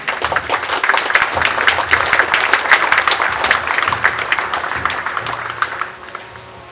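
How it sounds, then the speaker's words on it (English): Sustained, loud crowd applause for the graduating class of 2021 at a graduation ceremony, dense clapping filling the hall for about six seconds before tapering off. "Let us give them a warm round of applause."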